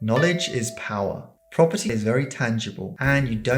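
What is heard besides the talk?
No distinct noise like a dog, phone or traffic.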